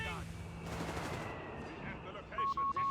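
Carpet bombing in the World War II strategy game Company of Heroes 3 comes as dense, continuous battle noise with overlapping blasts and gunfire, a broad rumbling burst swelling near the middle, ending in several short sharp repeated tones.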